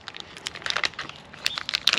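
A foil energy drink pouch from a Norwegian arctic field ration being crinkled and pressed shut, close irregular crackles and plastic rustles in quick bursts, louder near the end, with no talking.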